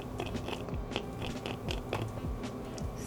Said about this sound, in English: That streusel topping is crunchy.